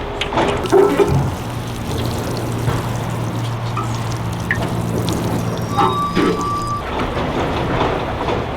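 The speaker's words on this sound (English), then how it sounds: "I'm gonna take this as a sign to hand water, take my time, and enjoy the moment." Water poured by hand over a garden bed on a city morning, a steady soft splashing and pattering that runs throughout, with a low hum and faint distant chirps behind it.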